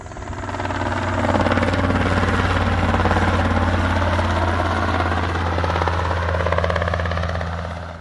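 Helicopter at Stewart International Airport, a loud, steady, close engine drone with a rapid pulsing rotor chop, rising at the start and holding throughout without talk.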